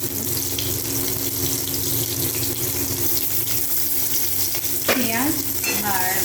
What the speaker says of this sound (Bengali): এবারকে তুলে রেখে আমি আলুগুলো ভেজে নেব।